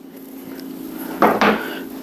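Chopped onions for scalloped potatoes and ham land in a dish with two quick clattering thuds close by, after a quiet kitchen pause.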